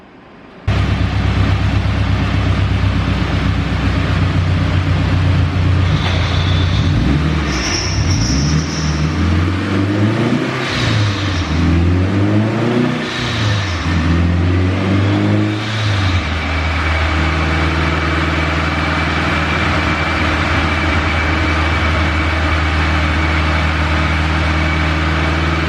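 Turbocharged Honda K20 engine in an EK Civic hatchback runs on a dyno, droning steadily, then climbing through repeated revving pulls with wavering pitch before settling back to a loud, sustained hum; no talk.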